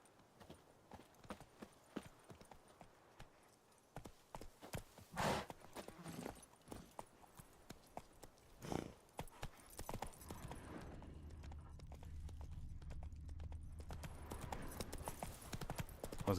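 Horse hooves clip-clop in a steady walking rhythm, sparse at first and then growing denser and louder, with a low rumble joining in the latter half and no talk over it.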